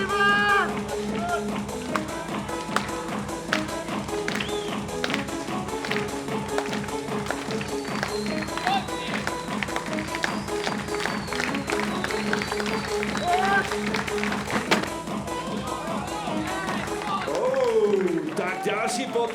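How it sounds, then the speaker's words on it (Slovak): A crowd at a men's long jump meet applauding a Scottish jumper, rhythmic clapping running steadily throughout beneath an announcer talking over it. "Tak ďalší potlesk pre tohto Škóta Stephena Rosa McKenzieho."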